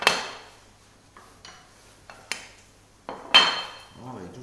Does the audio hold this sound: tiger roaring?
no